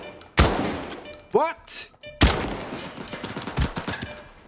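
Shotgun blasts in the shooter game S.T.A.L.K.E.R. 2, several loud sharp bangs with thuds between them, while a player briefly speaks.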